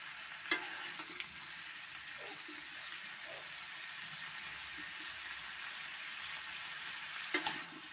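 Cauliflower and pumpkin with tomato paste, ginger and cumin sauté in a pan: a quiet, steady frying hiss with a couple of faint utensil clinks near the start and end.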